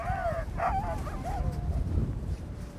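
Sled dogs at harness give high, wavering whimpers and yips over a steady low rumble of activity, the cries coming in short bursts close by.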